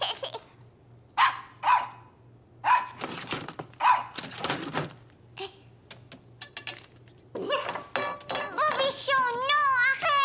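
A small cartoon dog in a French-language Caillou animated episode gives several sharp, close barks in a row, followed by clattering sounds, voices and a tuneful cartoon sound.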